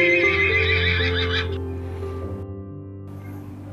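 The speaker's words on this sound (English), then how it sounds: "horse" A horse gives one long, loud whinny up close that fades into a quieter shuddering tail, with a faint clatter at the very end.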